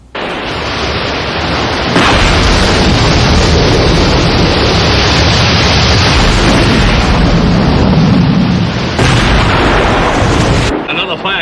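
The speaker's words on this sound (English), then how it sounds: "That gas field has blown again." A gas field blowing up again as a television sound effect: a sustained roaring blast of broadband noise that swells in and holds loud and dense for about ten seconds before cutting off.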